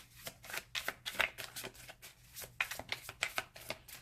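Tarot cards shuffled during a love reading, a rapid series of crisp riffling bursts in uneven rhythm, close and fairly loud, with no talking.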